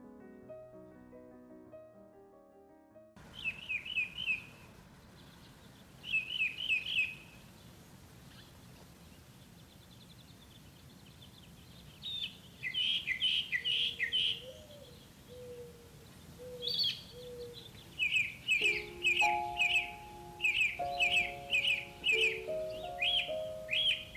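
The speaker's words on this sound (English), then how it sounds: "The thorn bird is a songbird, and its song is said to be sweeter than the song of any bird on the face of the earth." A songbird sings repeated bright, trilling phrases in bursts, close and clear, alternating with pauses. Soft melodic musical tones play at the start and again later alongside the song.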